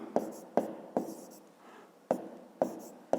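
A pen or pencil writes on paper for a math exercise, six sharp strokes and taps spaced unevenly with a soft scratch between them, close and quiet with no talk.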